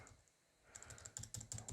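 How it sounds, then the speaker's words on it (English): Arrow keys on a computer keyboard are tapped in a quick run of light clicks, close and quiet, during time-lapse editing with no speech. "Just adjust it a little bit using the arrow keys."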